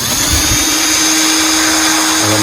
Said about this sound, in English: I'm going to drill holes for the Carpenter bees,